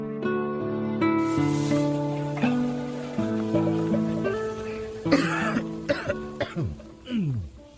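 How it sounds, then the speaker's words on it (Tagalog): A man, feeling ill, lets out several harsh, rough coughs in quick bursts near the end, following a stretch of soft sustained background music. "Mukhang sama niyang ubo mo ah"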